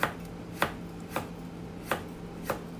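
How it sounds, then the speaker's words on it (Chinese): Knife slicing through a peeled carrot on a cutting board, five crisp separate cuts at a slow, steady pace, close and clear with no talking. "先切片，"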